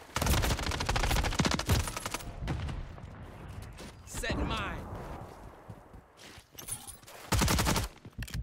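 Rapid gunfire in the video game Call of Duty Modern Warfare III, with loud bursts at the start and end and quieter shots between, mixed with footsteps, mechanical clicks and voices talking.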